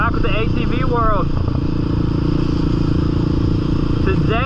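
A dirt bike's engine drones loud and steady at Interlake motocross park in Lynnville, Indiana, while a rider talks over the constant roar.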